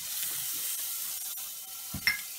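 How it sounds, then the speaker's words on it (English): Boiled potatoes sauteing in butter in a pan, a steady broadband sizzle throughout with a brief clink near the end, close and without talk. "Now I'm going to saute my saute potato."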